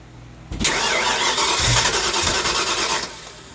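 An old carbureted car engine on a long-dormant project car cranks, then catches and runs roughly for a few seconds, loud and close, before cutting out.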